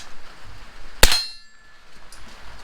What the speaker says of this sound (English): Never heard a suppressed gun.